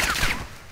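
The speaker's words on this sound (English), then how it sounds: "where is this guy shooting me?" Gunfire in a shooter video game: a short, sharp burst of rapid shots up close, fading quickly into the rest of the game audio.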